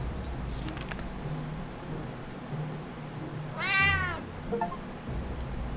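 A cat meows once at the shelter hatch in the survival game 60 Seconds, a single clear rising-and-falling call over a low ambient hum, with no scratching evident.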